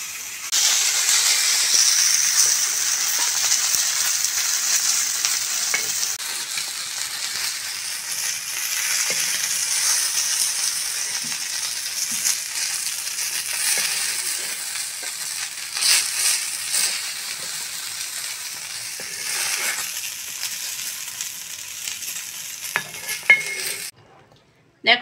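Lote fish (Bombay duck) frying in hot oil in a pan, a loud steady sizzle and crackle running nearly unbroken for about twenty-four seconds, with occasional clinks of a utensil, before cutting off abruptly near the end.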